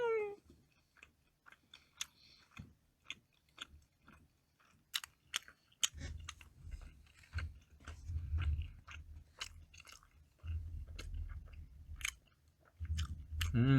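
Someone chews Korean rice cake (tteok) with soft, sticky bites and mouth sounds near the mic, first sparse and then denser, with low handling rumble in the second half.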